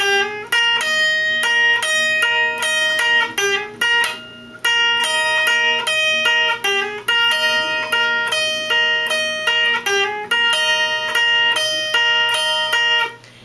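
A distorted electric guitar plays the main riff, loud and up close, with rhythmic gaps between phrases and no voices.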